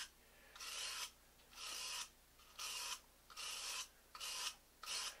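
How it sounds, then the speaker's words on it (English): A bronze brush scrubs the comb and cutter of a clipper blade to deburr them, in six even rasping strokes about a second apart, close and crisp, with no talking. "You're going to want to deburr both the comb and the cutter with the bronze brush."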